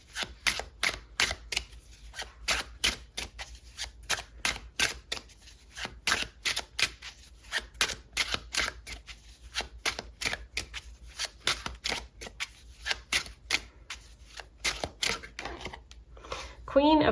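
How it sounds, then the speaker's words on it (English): Tarot cards are shuffled and pulled in quick, rhythmic riffles, a steady series of crisp papery flutters and snaps repeating close by, with a brief voice at the very end. "Pull some tarot cards."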